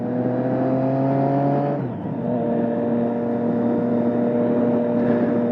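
A Triumph Street Triple 675 naked sport bike idles and revs near 5,000 RPM with a loud, steady, close exhaust drone. Its pitch dips briefly, then settles back to a sustained, even note.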